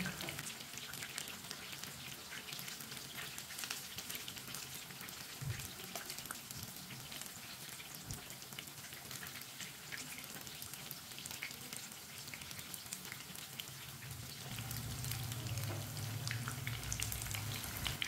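Chicken nuggets sizzle steadily in a pan over a low flame, a continuous soft frying hiss with a faint crackle that holds evenly throughout and swells slightly near the end, with no talking.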